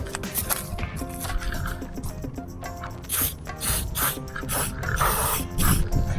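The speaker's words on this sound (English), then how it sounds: "So we hit every moving joint here with some lube." Lubricant sprayed onto the rusty moving joints of an RV stabilizer jack comes out as short hissing bursts, close and moderately loud, with faint metallic clicks between them.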